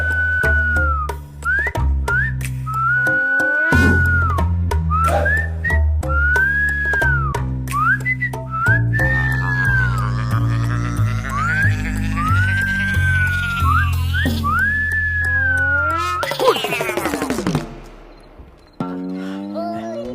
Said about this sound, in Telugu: బయట ఎవడో విజిల్ వేస్తున్నాడు